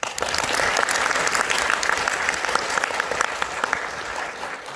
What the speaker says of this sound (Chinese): 相信大家鼓掌感谢他们